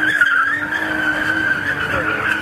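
Tire squeal from a Cadillac ATS-V doing a burnout, a loud continuous screech with engine roar beneath, close and sustained.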